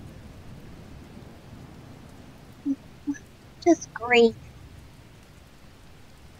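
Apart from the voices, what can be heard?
rain falling, sound effect in tabletop campaign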